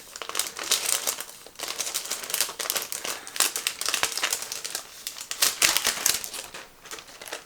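Paper packaging and stickers crinkle and rustle steadily while being handled up close, a busy and fairly quiet texture of crisp crackles with no talking.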